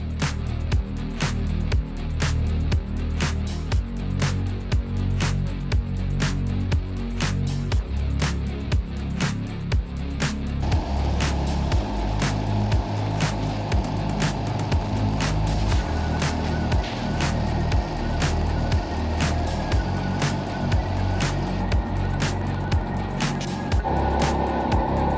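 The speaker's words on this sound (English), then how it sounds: "I'll start the compressor and the generator back up" An air compressor and generator running together, a dense steady mechanical drone with rapid regular clicking pulses, becoming busier and higher-pitched partway through as the compressor loads up, continuous and fairly close.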